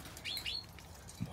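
Small birds give a few quick, faint chirps outdoors, two brief high tweets close together followed by a soft low flutter.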